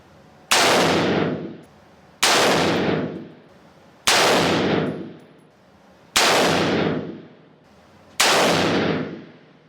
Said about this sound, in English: we're gonna see how many times I can shoot the the villain without killing the hostage